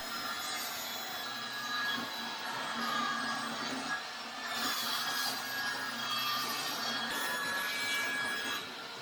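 Wood miters are cut on a simple jig at a DIY workbench with a built-in table saw, giving a steady, close sawing whine with brief swells in pitch and no talking.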